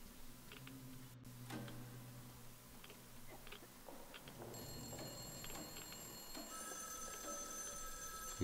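A telephone rings faintly inside a Metro Exodus game level, thin electronic tones layered over quiet ticking and a low ambient hum, growing more prominent in the second half.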